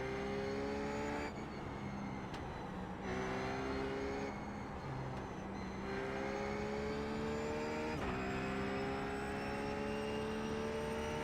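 A Ruf GT3 race car in iRacing: a loud, continuous engine note rising through the revs and dropping sharply at each gear change, several upshifts in sequence, with no talk.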